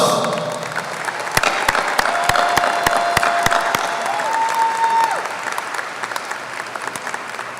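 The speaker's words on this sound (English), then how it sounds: "Let's give our top scholars a well-deserved round of applause." A graduation audience at a 2024 high school ceremony applauds its top scholars with sustained, dense clapping that fills the hall. A few sharp claps stand out near the front, and a faint tone hums underneath the applause.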